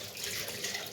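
Water runs from a kitchen tap in a steady, even hiss for about a second, close by, with no voices.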